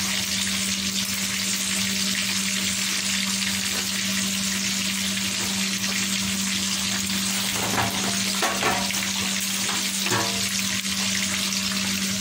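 Spicy danggit (safi) fish, seasoned with turmeric, black lemon, ginger and mixed spices, fries in hot oil. A dense, continuous sizzle runs throughout, close and steady, with a few brief clatters near the end and no talking.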